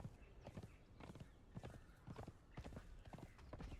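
Horse hooves clip-clop in a steady rhythm while riding in the video game Conan Exiles, continuous and fairly close, with a faint whinny-like texture in places.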